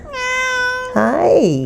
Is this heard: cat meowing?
yes